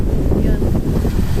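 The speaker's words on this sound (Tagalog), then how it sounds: "Malakas na alon, no? Hindi maganda yung panahon." Strong wind and rough waves at sea in bad weather around a fish pen, a loud, continuous buffeting roar with surging water beneath it and no break throughout.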